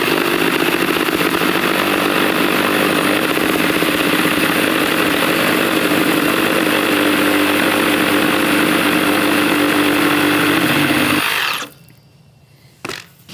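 A Dewalt cordless reciprocating saw, fitted with a pruning blade, cuts through wood with a loud, steady motor buzz that runs continuously for about eleven seconds, then cuts off, leaving near quiet with a small clatter.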